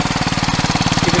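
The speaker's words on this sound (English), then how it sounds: "I'll turn the starter. Reassuring little thrum." A 2022 BMW G310 GS Rally motorcycle engine settles into a steady, rapid thrumming idle right after starting, close and even-pulsed throughout with no talk.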